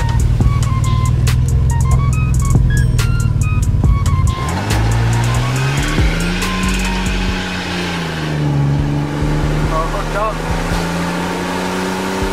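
A Nissan Sentra engine with a new intake pulls hard under acceleration, its loud drone rising in pitch through the revs, easing, then climbing again, steady and close throughout with no talk.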